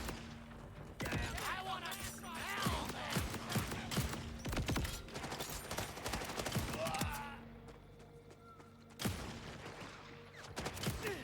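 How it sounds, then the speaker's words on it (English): Tor sticky grenades detonating in the Borderlands video game amid a dense barrage of gunfire, mechanical clanks and thuds, with a player talking over the action. "So they stick, and then when you reload, they go off."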